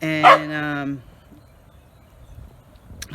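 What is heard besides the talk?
dog barking to have its ball thrown again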